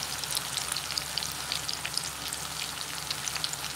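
Sweet potato fries frying in hot oil, a steady close sizzle with fine crackling pops running without a break and no talk.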